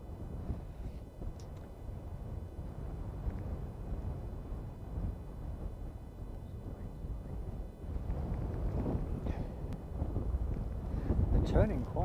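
Strong gale wind at an airport buffeting the microphone with a continuous, rough low roar that grows heavier toward the end, with faint background rumble.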